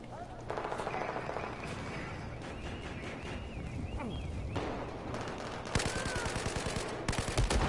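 Video game gunfire: bursts of rapid automatic shots crackle in quick clusters amid a steady background of battle noise, growing louder and denser toward the end.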